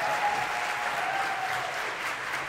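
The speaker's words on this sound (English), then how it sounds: "let's give another huge round of applause for the Salem Public School Honor Choir" Concert audience applauding the Salem Public School Honor Choir, a steady, full burst of many hands clapping that stays even and loud the whole time, with a faint voice or two in the crowd.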